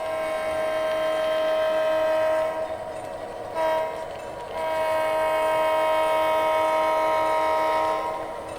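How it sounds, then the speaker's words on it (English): A loud, sustained horn blares over a steady rumbling model train running through a layout town, with a short break in the middle before the tone resumes. "You'll see the train run through town here."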